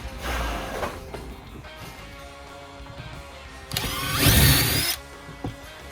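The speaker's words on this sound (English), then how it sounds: "I'm going to drill 1 hole in each spot." A power drill whirs in short bursts, revving up loudly near the end as the bit bores holes for an arrow quiver, with faint clicks and handling noise.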